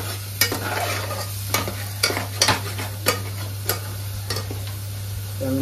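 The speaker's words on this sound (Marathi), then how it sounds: "म्हणजे याला फ्राय करत राहायचं तेल सुटेपर्यंत" Ground masala paste sizzles and fries in oil for a chicken curry, with a steady hiss and periodic sharp scrapes and clinks of stirring at irregular intervals, close and alone.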